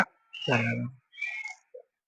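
Cat meowing in a home kitchen while chicken biryani made with seeraga samba rice is being cooked: one long, close, loud meow followed by a second softer cry and a brief faint chirp.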